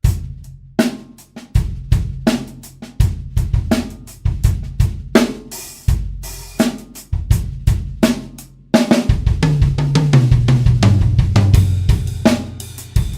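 Linear sixteenth-note pattern played slowly around a drum kit, single strokes moving between snare, toms and kick in a steady even rhythm, with a denser run of tom hits toward the end; close, loud and without speech.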